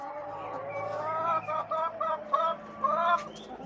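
Pet chickens clucking in a backyard coop where eggs are laid, several short bursts of clucking and calls rising and falling over faint background noise, fairly close, with no talk.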